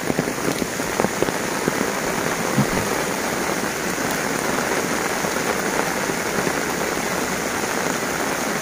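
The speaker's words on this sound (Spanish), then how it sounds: "Está lloviendo a cántaros." Heavy rain from Hurricane Nora pours down in a dense, steady hiss at the port of Acapulco, drops pattering hard on surfaces close by.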